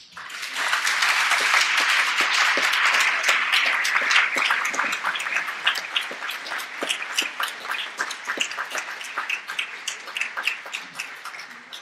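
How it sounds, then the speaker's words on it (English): Warm audience applause welcoming a new acting director, a dense, steady burst of clapping from a crowd that gradually thins into scattered individual claps. "That was a pretty warm round of applause, wasn't it?"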